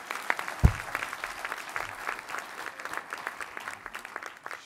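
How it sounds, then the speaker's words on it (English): An audience claps at a President's Council on Fitness, Sports & Nutrition meeting, moderate, fairly close applause building and pulsing for several seconds after a sharp thump near the start. "How about a round of applause for Abby?"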